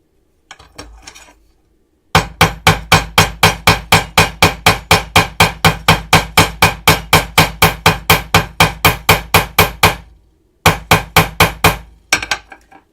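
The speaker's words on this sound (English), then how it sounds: "I'm going to take off that sharp edge. Give it a little tiny bit of work on my file." A hand file takes a sharp edge off a piece, working in a fast, steady run of about thirty close, crisp rasping strokes, with a brief pause before a few final strokes.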